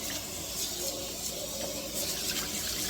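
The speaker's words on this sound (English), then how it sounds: "I'm going to put some water here" Water poured into a freshly de-rusted cast iron Dutch oven, a steady hissing stream of liquid filling the pan, close and continuous with no talk.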